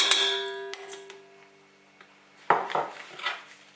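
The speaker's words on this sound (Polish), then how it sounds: "Najpierw masło utrę z cukrami" Butter is being creamed with sugar and powdered sugar in a bowl: a ringing clink, then a scattered series of clattering taps and scrapes of a utensil against the bowl, close and fairly quiet, without speech.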